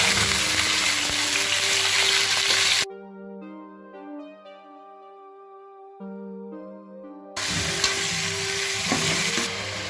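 Chicken shorba masala sizzles and is stirred in a hot pan, close and steady, then a short stretch of tonal music replaces it before the frying sound returns.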